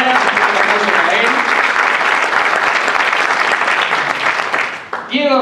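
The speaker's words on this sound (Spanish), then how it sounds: "Ledo Urrutia está a cargo de los cantores, que está en la sala. Un aplauso para él." A tango school's showcase audience in a hall gives a dense burst of applause, loud and continuous for about five seconds before fading abruptly.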